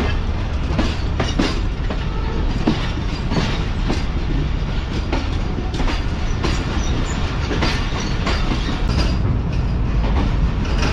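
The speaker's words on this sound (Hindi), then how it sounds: "ये ट्रेन ट्रैक चेंज करके मेन प्लेटफॉर्म पर आ चुकी है फैसलाबाद के।" The Karakoram Express pulls into the main platform at Faisalabad station after changing tracks, a loud continuous rumble of rolling railcars with steady clickety-clack from the wheels and occasional metallic squeals.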